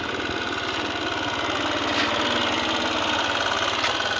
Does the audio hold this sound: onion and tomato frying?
no